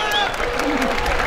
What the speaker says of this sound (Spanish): Un fuerte aplauso y reconocimiento de todo el público